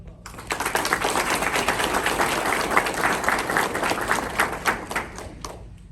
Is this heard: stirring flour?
no